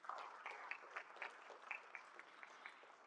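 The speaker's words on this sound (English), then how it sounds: "can we give them just one more round of applause?" Faint applause from a forum audience after young presenters, scattered claps over a soft murmur, steady for about three seconds.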